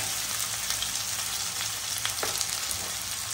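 Onions and green chilies frying in a pan give a steady, soft sizzle and crackle, close up and fairly quiet, with no talking.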